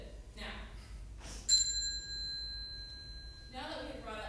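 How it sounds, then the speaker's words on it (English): Single bell ring on a stage, a clear bright ding that rings out for about two seconds between stretches of people speaking. "Anytime that you hear a ringing of the bell, you shall adopt the hidden persona beneath."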